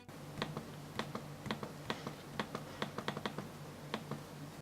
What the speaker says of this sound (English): clicking it produces an annoying sound